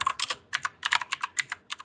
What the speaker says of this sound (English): if somebody is typing